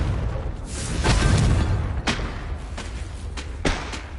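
Repeated fiery blasts from the Confringo spell in Hogwarts Legacy combat: a heavy booming burst near the start, then several sharp thudding impacts spaced through the rest, loud and close with a rumbling background.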